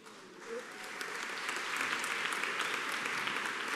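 Audience applause fills a hall at a prayer breakfast, rising after a brief lull into steady, sustained clapping from a sizable crowd, moderately loud and unbroken.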